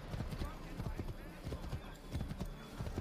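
Galloping horse hooves clip-clop in a rapid, steady rhythm during a chase in the video game Assassin's Creed III, with an occasional whinny, all under shouted dialogue.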